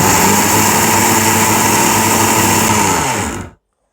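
A Tefal mixer grinder whirs at full power grinding cumin seeds, a loud steady high-pitched motor whine with rattling seeds that winds down and cuts off abruptly at the end.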